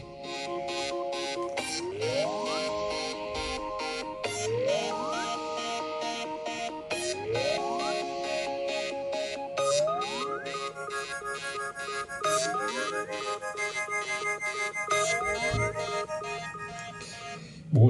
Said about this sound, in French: Prochaine sonnerie.